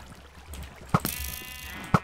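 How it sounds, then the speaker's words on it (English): A sheep bleats once in the video game Minecraft, a single wavering bleat framed by two sharp thuds, with faint game ambience underneath. "These sheep are so annoying."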